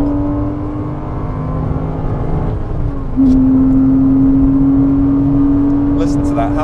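A Porsche Cayman 987 on track at Bedford Autodrome howls from inside the cabin, its engine note climbing and then holding a loud, steady high drone, with low road and wind rumble underneath.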